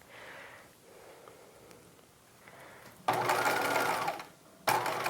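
A sewing machine stitches a circle skirt seam at 5/8 inch with backstitching, two loud bursts of steady whirring, the first about a second and a half, the second shorter, after quiet handling noise.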